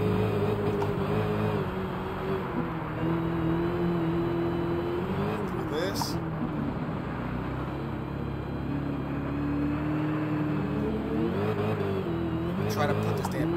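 A 900hp Dodge Demon's engine roars steadily while drifting on snow at Lake Louise in Gran Turismo 7, a loud sustained drone with pitch rising and falling as revs shift, under a talking voice.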